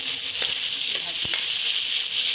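Eggplant fries in hot oil with turmeric, giving a loud, steady close-up sizzle broken by a few light scrapes as the pieces are stirred.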